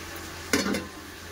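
A spoon stirring a meat curry with tomato, green chili and fried potato in a pan, one short scraping swish over a faint low background hum.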